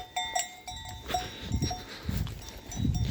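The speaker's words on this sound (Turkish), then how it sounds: "Koyunları çeviriyorum şu anda." Several sheep in a flock being herded bleat and shuffle close by, with irregular animal calls and movement sounds over a short stretch, no talking.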